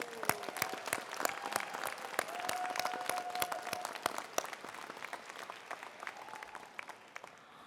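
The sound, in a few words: commencement audience applauding families and friends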